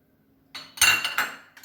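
A spoon clinks and scrapes against a bowl while cocoa powder is mixed into dry ingredients, a few short metallic taps and rubs following a quiet start.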